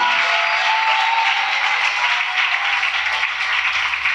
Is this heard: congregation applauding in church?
yes